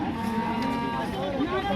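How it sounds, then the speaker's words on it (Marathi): A Gir cow lows at a busy cattle market in Modnimb, giving a drawn-out, tonal moo amid people talking and general crowd noise. "तर ही एक गिर गाय."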